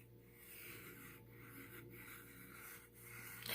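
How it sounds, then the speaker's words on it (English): A pencil writes the word earth on a surface in soft, close scratching and rubbing strokes. Several short pauses come between strokes, all faint and with no voices. "So I'm just going to write the word earth."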